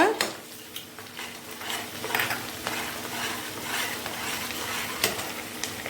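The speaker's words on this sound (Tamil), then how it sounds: "நல்லா குட்டி குட்டியாக வெட்டி வச்சிருந்த பச்சை மிளகாவை சேர்த்துக்கலாம். ஒரு 4 பச்சை மிளகாய் நான் சேர்த்துக்கிறேன் இன்னைக்கு. நல்லா ஃப்ரை பண்ணிக்கோங்க" Chopped green chillies fry in a pan for a South Indian fish pickle while being stirred, heard as a steady soft sizzle under repeated close scraping and clinking spoon strokes, with no speech.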